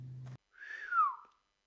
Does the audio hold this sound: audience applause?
no